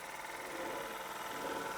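A Wormar Trojan Model D model steam engine runs steadily alone, a soft, even mechanical whirr with a busy rapid texture and a faint hiss, holding constant at close range.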